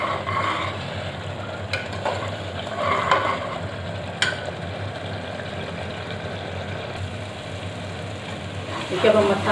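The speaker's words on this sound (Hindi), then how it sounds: "देखिए भून रहे हैं मसाला" Masala spices frying in a pan for kofta and potato curry, a low steady sizzle with occasional stirring scrapes, a few clatters and a quiet voice talking over it.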